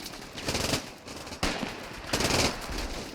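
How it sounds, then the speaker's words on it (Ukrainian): Machine guns fire in the World War II strategy game Combat Mission: Battle for Normandy, rattling in several dense bursts at moderate distance, with gaps between volleys and no speech. "Працюють кулемети."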